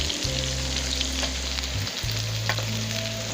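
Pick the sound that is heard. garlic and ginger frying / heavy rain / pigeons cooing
garlic and ginger frying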